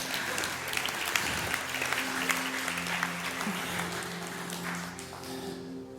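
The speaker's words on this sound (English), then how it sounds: "That would be the time to clap for Jesus." A church congregation applauds during a sermon, a sustained wash of many hands clapping in a large room, moderately faint with a few sharper claps, slowly tapering near the end.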